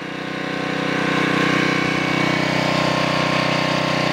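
A Generac 750 watt portable generator runs at half choke, its small engine holding a steady, buzzing mid-pitched drone that swells slightly in the first second and then stays loud and even, with no talking.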